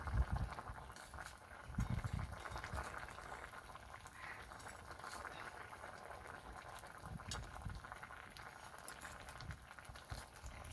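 Potatoes and papaya boil in a covered pot, a continuous soft bubbling and gurgling simmer with occasional louder low burbles, heard close and alone without talking.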